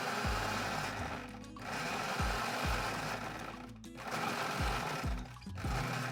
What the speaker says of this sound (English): It's a loud processor, but it works.